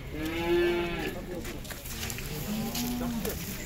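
A dairy cow at a livestock market gives two drawn-out moos, close and loud, with faint voices and ambient noise behind them.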